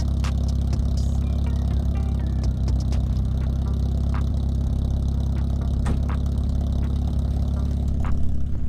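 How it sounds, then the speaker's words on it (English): A VW Polo coupe with a full straight-through exhaust pipe rumbles steadily at idle, a deep, continuous and loud drone with faint scrapes and clicks over it. "It's got a full straight through pipe on it, and yeah, it's got a nice rumble to it."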